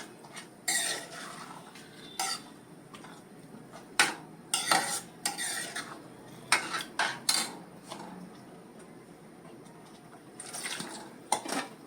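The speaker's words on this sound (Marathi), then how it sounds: "हे चवीपुरतं मीठ घातलं पुन्हा ढवळून घेऊया आता" Ambadi (roselle leaf) vegetable dish being stirred in a pot with a spoon, a series of close scraping and clinking strokes against metal over a faint sizzle, irregular bursts with short pauses between.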